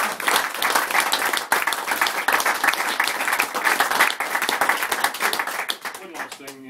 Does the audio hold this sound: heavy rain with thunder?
no